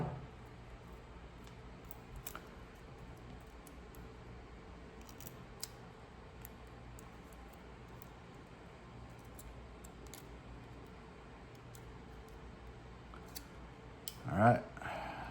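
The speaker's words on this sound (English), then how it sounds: "make a little snip" Mostly quiet with a few faint clicks, then near the end a single sharp snip of scissors cutting through a thin aluminum can, close by.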